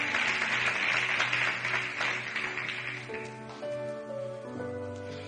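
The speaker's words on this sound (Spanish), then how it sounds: "Vamos, dale ese aplauso fuerte a Dios." Church congregation applauding during a sermon, broad clapping filling the space at first and then thinning out as sustained organ or keyboard chords and music rise and carry on underneath.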